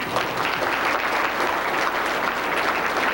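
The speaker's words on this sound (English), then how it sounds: "let's give them all a big round of applause" Applause at a Democratic Party Jefferson-Jackson dinner: a roomful of people clapping in a dense, even wash, loud and sustained throughout with no voices standing out.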